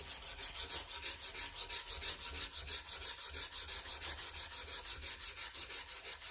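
Padauk wood being sanded by hand with steady back-and-forth strokes, a rhythmic scratchy rubbing that repeats about three times a second, close and fairly quiet, with no talking.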